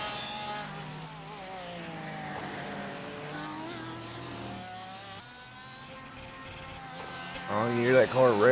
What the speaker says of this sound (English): Oh, you hear that car revving up,